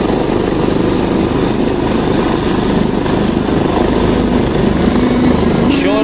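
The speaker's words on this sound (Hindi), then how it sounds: "शोर बहुत ज़्यादा है, आवाज़ बहुत ज़्यादा है हेलीकॉप्टर का" Loud, steady helicopter rotor and engine roar fills the whole clip, close and continuous, during a chair lift rescue in Allai, Battagram, with a voice faintly audible beneath it.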